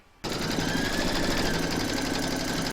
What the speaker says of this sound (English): Pop your hoop back into your machine and stitch round number 2 to secure it.